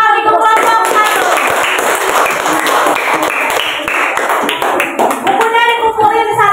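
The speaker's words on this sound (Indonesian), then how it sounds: "Beri tepuk tangan untuk kelompok 1" A classroom group applauds together, a steady patter of hand claps running throughout with children's voices talking over it, the clapping thinning briefly near the end before picking up again.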